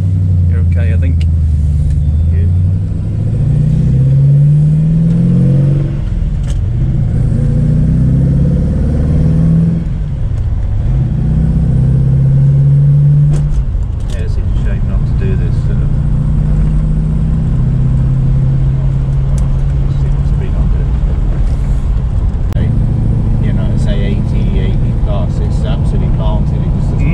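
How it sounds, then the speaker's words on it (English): An Alfa Romeo Montreal's engine rumbles and rises in pitch as it accelerates, with repeated deep revving swells heard from inside the car while a person talks over it. "a spine-tingling bellow when the accelerator is floored"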